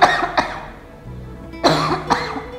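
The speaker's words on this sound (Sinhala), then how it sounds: "හොඳට හුස්මක් අරගෙන කහින්න බලන්න පුළුවන් තරම් හයියෙන්" A patient coughs hard on request during a bedside swallowing screening test, with two forceful bursts early on, a brief quiet stretch, then three more strong coughs close together, all near and loud.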